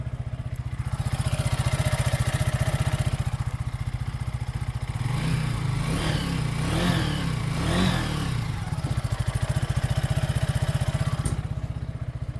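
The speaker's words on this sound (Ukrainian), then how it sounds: "відзивчивий на ручку газа, реально приємний басистий" A 2025 Zonsen Batllo 5 RS EFI motorcycle idles with a deep, steady rumble, then revs up in a few quick throttle blips before dropping back to idle.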